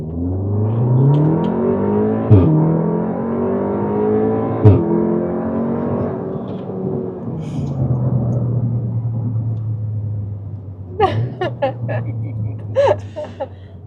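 Audi S3 engine in dynamic mode accelerating hard through rising revs, with sharp shift cracks between gears, then settling into a steady low drone, alone without talk.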